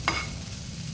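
Ginger fries in a pan with a steady low sizzle after one brief scrape of a stirring utensil, close and quiet, no voices.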